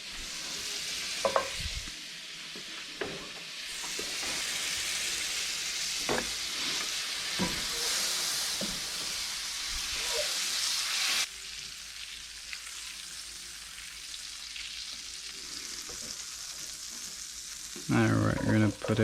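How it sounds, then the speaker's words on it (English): A generous amount of butter melting and sizzling in a pan, a steady close crackling hiss with occasional stirring clatter, continuing throughout with no talk. "Gonna put in our butter. Lots of butter."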